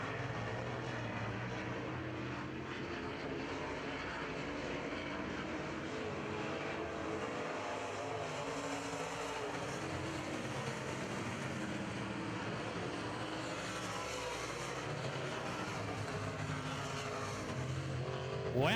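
Modified race cars roar around a dirt oval during a heat race, a steady dense engine drone with cars passing by, heard from the grandstands with no commentary over it.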